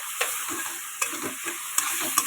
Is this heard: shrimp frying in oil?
yes